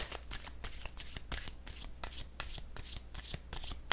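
Oracle cards being shuffled by hand, a steady run of quick papery riffles and soft slaps, close and fairly quiet, with no one talking.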